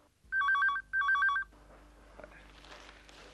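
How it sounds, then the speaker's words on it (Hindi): A telephone rings twice in quick electronic trills, loud and close, followed by a quieter stretch of faint background noise and the start of a third ring. "लगता है क्लाइंट्स की लाइन फोन पर लगनी शुरू हो गई।"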